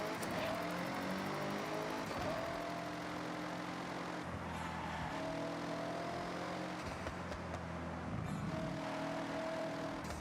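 Engine revving from a car in the Forza video game, with an M4 Competition and Koenigsegg mentioned, a steady loud drone that rises and falls in pitch across gear changes, with no talk.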